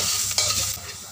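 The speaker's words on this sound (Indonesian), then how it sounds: "Wajan dengan minyak, lalu kita tumis bawang putih cincang." Minced garlic sautéing in hot oil in a wok, a steady close sizzle with a couple of sharp scraping stirs of a spatula.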